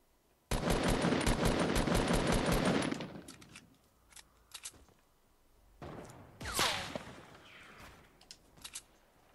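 Gunfire in a Fortnite tournament match: a loud, rapid, sustained burst of automatic fire for a few seconds, then scattered single shots, a whooshing sweep and more distant shots trailing off, with no voices.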